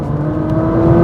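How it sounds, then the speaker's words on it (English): A Ferrari 458 Italia Spider cruising on back roads, its engine a steady, fairly loud whirring drone with a sustained tone that swells slightly toward the end. "Wow, it's such a fun car to drive on these back roads."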